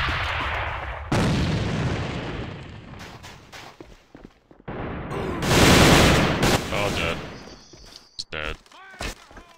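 Gunfire and explosive bursts from a first-person shooter match, loud cracks and booms in short clusters with brief gaps, mixed with player chatter and footsteps.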